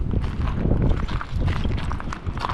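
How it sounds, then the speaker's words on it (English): Quick, overlapping footsteps thud and scuff in an irregular patter, fairly close, with no talking. "That's the sound of the walking couple."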